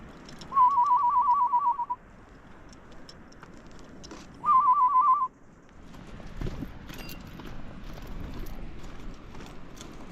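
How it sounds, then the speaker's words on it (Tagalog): Near a fishing beach, a clear high bird whistle rings out in two rapid trilled phrases, the first lasting over a second and the second shorter. Soft rustling and outdoor background noise follow. "maganda magsipol ng ibon ah."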